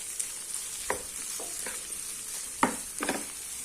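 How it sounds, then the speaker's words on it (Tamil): Spring onion fries with cooked vegetables in a biryani pan: a steady, quiet sizzle under a few soft spoon scrapes from stirring. "இதில் நான் கொஞ்சமாக ஸ்ப்ரிங் ஆனியன் வச்சுருக்கேன்."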